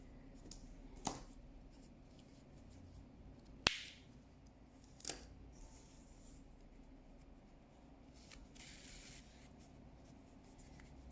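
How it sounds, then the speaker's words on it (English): Scissors snip through yarn in a crochet project, a few quiet, sharp clicks spaced seconds apart against faint room hiss, with a soft rustle of handling. "cut the yarn, leaving a long tail for sewing"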